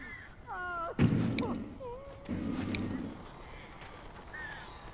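Crows cawing in the Alan Wake video game, several harsh calls scattered across the moment with a heavy thud and rustling bursts between them, over low background ambience.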